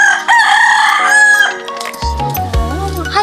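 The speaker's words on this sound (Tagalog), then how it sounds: "Hi, chickens!" A rooster crows loudly and close, followed by clucking chickens with overlapping calls from the flock.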